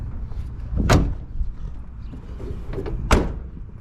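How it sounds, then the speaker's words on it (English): Two solid car door slams on a 1968 Oldsmobile Delmont, one near the start and another a couple of seconds later, with faint handling noise in between. "close all the doors"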